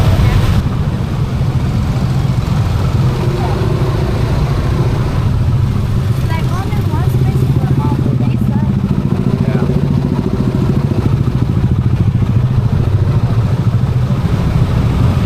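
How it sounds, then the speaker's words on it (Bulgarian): Many scooter engines rumble and idle together in a dense traffic jam in Bali, a steady loud drone with occasional revs and clatter, with a voice speaking over it. "Около 300-400 метра плътно мотори."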